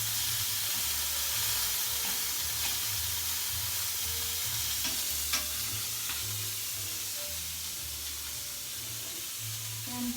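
Scallops searing in an oiled pan, a steady close sizzle and frying hiss throughout with small stirring and spatter ticks, no talking.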